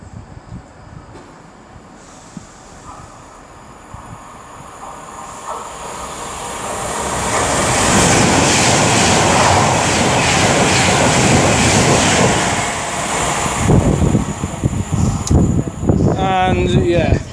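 Avanti West Coast Class 390 Pendolino electric train, unit 390.005, on the West Coast Main Line at Nuneaton, approaching and passing close by with a rising roar and rail rumble, then a fainter squeal as it clears, with brief talk over it.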